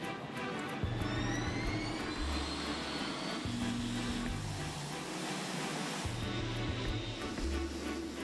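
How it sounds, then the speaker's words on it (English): A Boeing 747-8 jumbo jet on its first takeoff gives off a steady, loud, distant roar with a low rumble and a faint high whine, heard alone without voices. "The 747-8 the newest and largest version of the company's iconic jumbo jet, is taking off for the first time."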